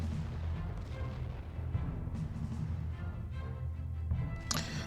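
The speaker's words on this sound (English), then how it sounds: "Them mortar emplacements are seriously annoying." Mortar and artillery fire in a First World War Western Front game, German side in 1916, heard as dense rumbling booms and blasts with a sharper crack near the end; no speech.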